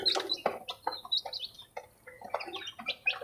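Young chicks peeping and chirping as they drink Yakult, a busy stream of short high cheeps from several birds close by, with no talking.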